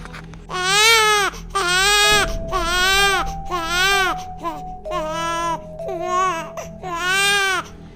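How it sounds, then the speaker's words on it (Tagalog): An infant cries in repeated loud, close wails, each burst rising and falling with short breaths between, over a faint steady hum. "lumakas at lumapit ang iyak."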